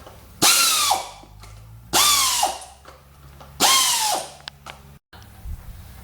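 A power tool spins out the cush drive bolts on a motorcycle rear wheel in three loud close bursts, each a high rising whine that winds down, separated by short pauses with small clicks.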